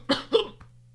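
Two close coughs from a person bothered by persistent hiccups, strong and near, with a softer third cough trailing after over a steady low hum.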